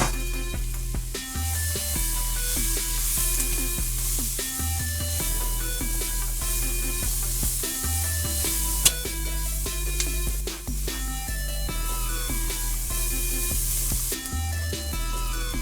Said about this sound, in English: we're going to saute these vegetables